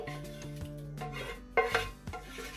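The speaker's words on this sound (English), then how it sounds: "now I'm going to go ahead and transfer the rest of it to this big pot of pasta" Meat sauce scraped from a pan into a big pot of pasta for baked ziti, with metallic scraping and clanking of utensils against cookware, a few sharp knocks, fairly close and without talk.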